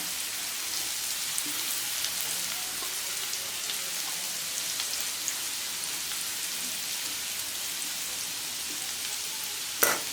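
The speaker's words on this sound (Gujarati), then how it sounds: "તો અહીંયા આપણે ઓનિયન એકદમ સરસ મજાની સાંતળાઈ રહી છે" Onions sautéing in a pan, producing a soft, even crackling hiss throughout, faint and continuous, with a brief sharp clatter right at the end.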